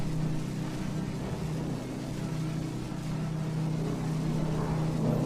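A steady, low ship engine drone hums on without a break, with faint watery wash and rumble in the background, aboard the sinking Britannic in a VR game.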